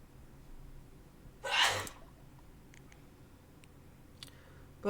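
One loud, abrupt sneeze bursts out in a quiet room, followed by faint ticks and clicks and a soft breath at the very end.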